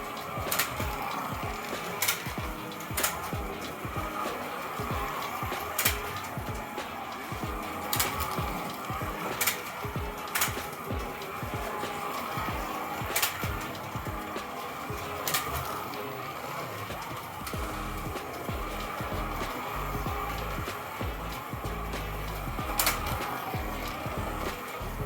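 A toy car runs around a model race track layout, giving a steady mechanical whirring clatter broken by regular sharp clicks as it laps, close and alone with no talking.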